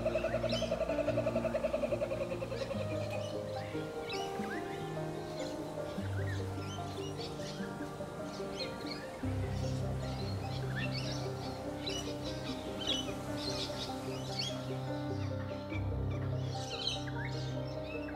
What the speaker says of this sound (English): Often, the parent will call the chicks to tell them food is coming.